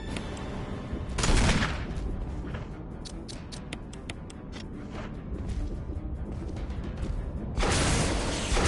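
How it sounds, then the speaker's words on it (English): Rocket launcher fire in Resident Evil Remake: a loud blast opens the clip, followed by a dense stretch of game noise with rapid ticking and crackle, then a second heavy burst near the end. "Big ass rocket launcher."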